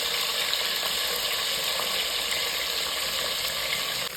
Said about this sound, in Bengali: তেলটা হালকা গরম হয়ে আসলে চিকেনগুলোর পিস হালকা করে ভেজে নেব